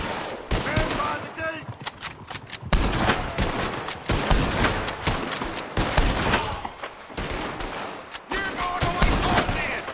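A Red Dead Redemption 2 shootout brings rapid, repeated gunfire: loud overlapping cracks and volleys that keep coming for the whole stretch, with voices calling out between the shots.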